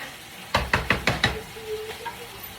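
Ground beef cooks in a frying pan as a utensil knocks the pan five times in a quick, even rhythm, followed by softer taps over a faint sizzle.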